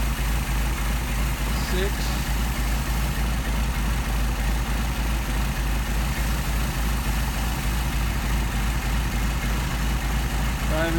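A car engine fitted with a Solex carburetor idles at about 650 RPM during tuning, a steady low pulsing throb close by and unchanging, with someone speaking briefly over it.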